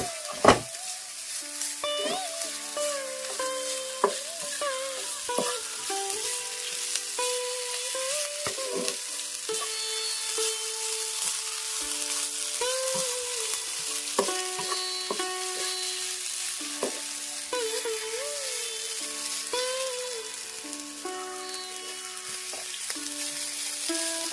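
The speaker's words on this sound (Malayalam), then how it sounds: "നമുക്ക് നന്നായിട്ട് ഇളക്കാം" Grated coconut for a Kerala roasted chutney sizzles steadily in a hot pan while being stirred, with soft scraping, clinking of the spoon and a continuous frying hiss throughout.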